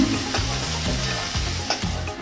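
Cauliflower pieces frying in hot oil for a Rath festival khichuri, giving a steady close sizzle with occasional stirring scrapes, no voices.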